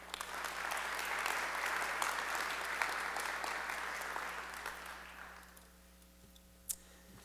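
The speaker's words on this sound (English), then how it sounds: "we wanted to give her a round of applause as well" A crowd at an evening school board meeting applauds for the absent Staff Member of the Year, a steady wash of clapping that tapers off after about five seconds, leaving a quiet room with one sharp click near the end.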